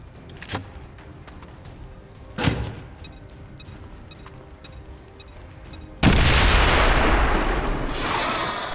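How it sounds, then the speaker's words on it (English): A grenade goes off in XCOM 2, a loud sudden blast that swells into a long roaring rumble, preceded by scattered thumps and ticking game effects, with no talking. "launch a grenade to hit both the Claymore as well as the Viper"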